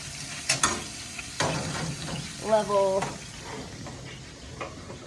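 Steaks sear on a Blazing Bull Schwank infrared grill, a quiet hiss and sizzle running beneath a man's speech, with a few sharp clicks and knocks.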